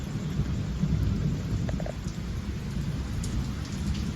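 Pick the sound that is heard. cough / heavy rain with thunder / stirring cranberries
heavy rain with thunder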